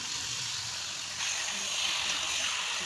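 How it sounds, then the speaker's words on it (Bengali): Marinated chicken hitting hot oil in a pan with small potatoes for chicken curry, a steady broadband sizzle that swells louder partway through. "মেখে রাখা মাংসটা দিয়ে দিলাম।"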